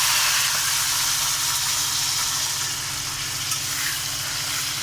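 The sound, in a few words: frying onion and tomato with spices in a pan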